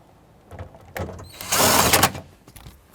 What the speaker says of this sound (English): It's got clips along the top that need to slide into these slots here.